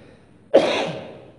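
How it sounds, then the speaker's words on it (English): A single sharp cough from an audience member at a spiritual satsang talk, fairly loud and close, rising from a quiet room and trailing off over about a second. "Coughing, eh? Problem."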